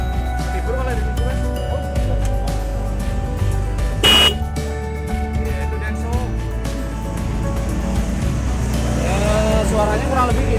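A repaired Denso disc car horn is tested with a short, loud blast in the middle, surrounded by steady electrical hum and workshop noise. People talk throughout.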